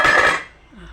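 Metal lid set onto a pot of tilapia fish soup, one bright ringing clank that fades quickly into quiet.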